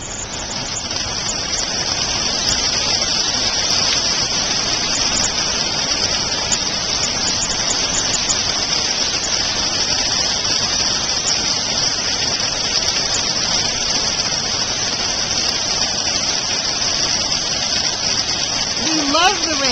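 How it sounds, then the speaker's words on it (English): Heavy rain pours down in a dense, continuous wash that stays steady and loud from start to finish, with no pauses or distinct drops standing out. "It is raining."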